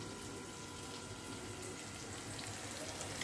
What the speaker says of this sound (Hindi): तो मुझे यहाँ पर पानी डाल लेना है